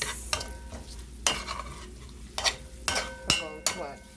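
Tomato paste fries in a pan, its soft sizzle broken by repeated scraping strokes and taps of a utensil stirring at an uneven rhythm, close and fairly quiet.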